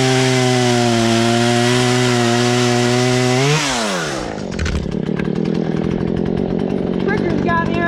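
A Husqvarna 120 Mark III chainsaw runs at a high steady whine, then drops in pitch as it bites into a log and keeps cutting with a rough, loaded snarl, close and loud.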